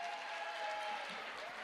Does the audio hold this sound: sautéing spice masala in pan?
no